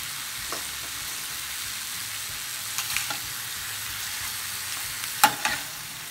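Shrimp sizzling in spicy sauce in a hot pan, a steady bright frying hiss with a few soft stirring clinks and scrapes, close and alone with no talk.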